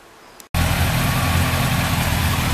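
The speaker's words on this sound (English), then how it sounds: "Right, both bikes are out and now warming up." Two motorcycles, one a Honda CBR400RR NC23 with a newly fixed exhaust, warming up; after a brief quiet moment an engine fires and settles into a loud, steady idle close by.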